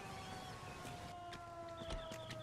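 Ambulance siren in the L.A. Noire video game, a steady wailing tone running throughout over a dense backdrop of street and crash-scene noise with a few sharp knocks.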